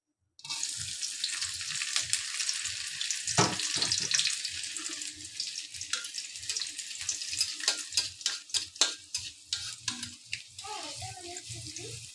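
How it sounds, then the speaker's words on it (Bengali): Chopped garlic fries in hot oil for a sweet-sour tomato chutney, a steady sizzle broken by clinks and scrapes of stirring, with a short burst of running tap water near the end. "এটা বাগার করার জন্য প্রথমে আমি দিয়ে দিলাম রসুন কুচি"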